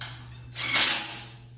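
A nut threaded onto a bolt on the caster of a Stiletto one-man kart stand, heard as a short close ratcheting click followed by a brief metallic whirring burst, with a faint steady hum underneath.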